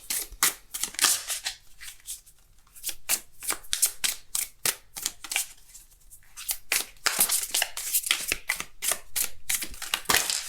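Oracle cards are shuffled up close, a rapid series of crisp riffling flutters and soft slaps in uneven bursts, with no talking.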